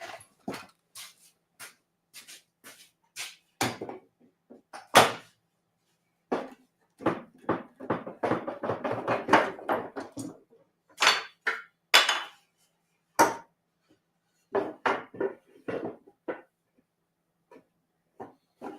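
Clamps are loosened and removed from a freshly glued wooden workpiece, giving a series of sharp knocks, clacks and metallic rattles at irregular intervals, close by, with a denser cluster of handling noise in the middle.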